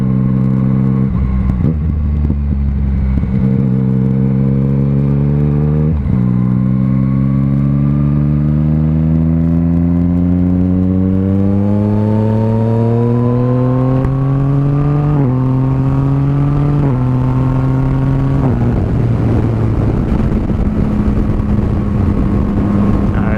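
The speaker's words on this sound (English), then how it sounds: "Not sure how much you're going to hear the exhaust at this kind of speed" A Yamaha MT-09 motorcycle exhaust heard while riding, loud and continuous, pitch climbing through several gear changes with stepped rises and drops, close to the rider with no talk.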